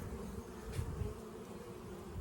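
Honeybees flying in and out of a young hive, a faint, steady close buzzing hum with brief louder passes near the entrance.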